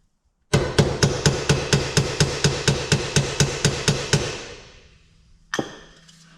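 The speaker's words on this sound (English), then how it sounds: "I'll put the round bar in the vise, give it a bit of a tap with the hammer" Hammer tapping a round steel bar clamped in a vise, about fifteen evenly spaced metallic blows ringing close and loud, then a pause and one final strike.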